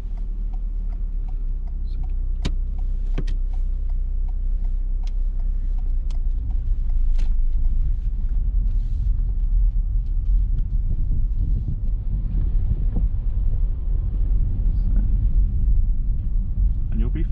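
Car engine rumbling steadily during a driving lesson with left and right turns, building slightly as the learner adds gas, with an instructor talking over it throughout.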